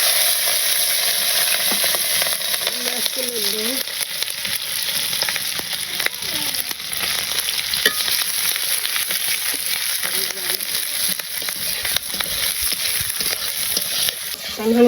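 Raw sweet pumpkin fries in a pan in a village kitchen, giving a loud, continuous hissing sizzle up close, with occasional stirring and a brief voice in the background.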